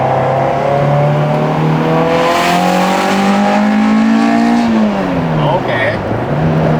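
A Toyota AE86's loud, raspy exhaust sounds from close by as it accelerates on an expressway, with the engine pitch climbing steadily before easing off near the end. Speech mixes in over the engine.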